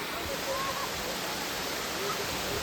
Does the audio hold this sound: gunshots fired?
no